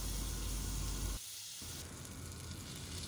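A fish fillet sizzles on a hot grill pan, a steady close hiss of frying that dips briefly as the fillet is moved, then continues evenly.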